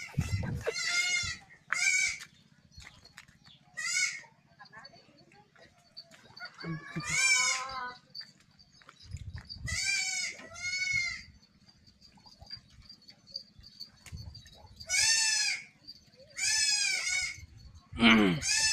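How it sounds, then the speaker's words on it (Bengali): Goats on a goat farm bleat loudly and repeatedly at close range, with several separate calls spread across the scene over a low steady background hum; people talk quietly between the calls. "ছাগল আসছে ছোটটা"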